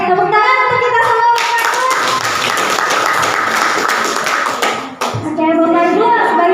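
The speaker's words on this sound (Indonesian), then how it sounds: "Oke, tepuk tangan untuk kita semua." A group of teachers and parents in a classroom session clap their hands together for several seconds, a dense, loud burst of applause that fades out as a voice resumes speaking.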